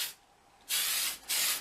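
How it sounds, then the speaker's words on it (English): NATO Black undercoat paint sprayed from an air gun onto a Leopard 2A6 tank model, heard as a short hiss, then two longer steady hissing bursts separated by a brief pause, close and fairly quiet. "I'll spray off with a NATO Black as a general undercoat"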